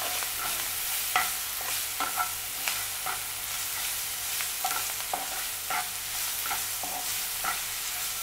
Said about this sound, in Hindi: और अदरक लहसुन की पेस्ट और प्याज को अच्छे से मिक्स कीजिए।